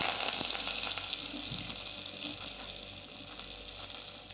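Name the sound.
mustard seeds and fenugreek spluttering in hot oil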